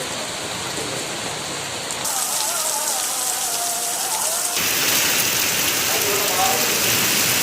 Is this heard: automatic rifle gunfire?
no